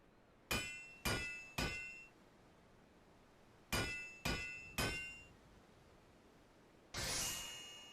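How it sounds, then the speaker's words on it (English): Metal hammering on a weapon at a forge in Final Fantasy XIV: three sharp ringing clangs, a pause, then three more in the same steady rhythm, followed by a brief hissing burst, clear and close with no talk. "You can just hear him hammering away."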